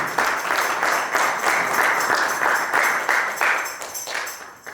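A church congregation at a Spanish-language service applauds, dense loud clapping from many people filling the room in a continuous roar that rises and then tapers slightly toward the end.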